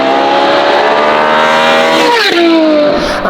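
A Ferrari 812 GTS with a 6.5-liter naturally aspirated V12 and sports exhaust howls at high revs toward 9,000 RPM, a loud sustained wail with rich harmonics, then the pitch drops sharply as it shifts or lifts off.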